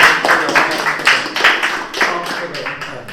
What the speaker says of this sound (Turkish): Alkışa devam.